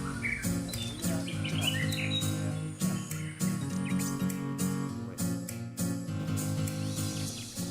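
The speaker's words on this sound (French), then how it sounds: "Là, on entend le cri du calao longiband." An African hornbill, the long-banded hornbill, calling with chirpy, repeated notes over a dense, continuous tropical forest chorus of birds and insects in Benin; no speech.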